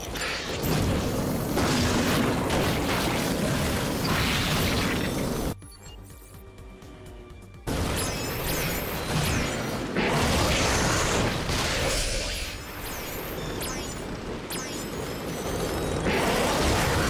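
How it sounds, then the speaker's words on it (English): Artillery blasts in the Ratchet and Clank 2016 video game: a dense, continuous roar of booming explosions with a brief quieter gap partway through, loud and close throughout. "Artillery."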